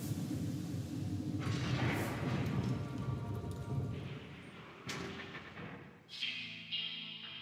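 Pressure bombs blow up in the video game SteamWorld, a dense, rumbling wash of blasts that thins out, then a few sharper, separate explosions near the end.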